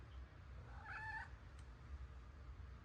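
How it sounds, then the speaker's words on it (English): A single faint, drawn-out meow from a cat, soft and distant in a quiet room, lasting about half a second over low background hum. "He's been meowing at me all weekend through the door"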